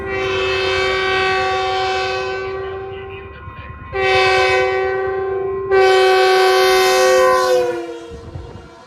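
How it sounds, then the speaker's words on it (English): A Utah FrontRunner passenger train horn blows three long, loud blasts, the chord holding steady with brief gaps between them. "Frontrunner trains and Union Pacific trains, as well as Utah Railway, were forced to blow their horns"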